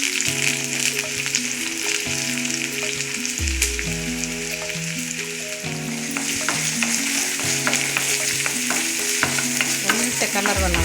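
Onion and curry leaves fry in coconut oil with a loud, steady sizzle that carries through the whole stretch, punctuated by faint stirring scrapes, beneath background music with no voices.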